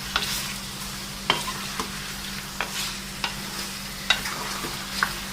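Chicken karahi frying in oil in a commercial kitchen: a continuous sizzle with regular sharp metal ladle clanks against the wok every second or so, close up and without voices.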